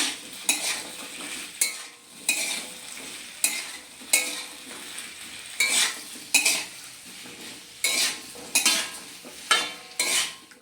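Shukto vegetables stirred with salt in a pan, rhythmic bursts of scraping and sizzling from a spatula working the mix, with occasional utensil knocks, close and clear.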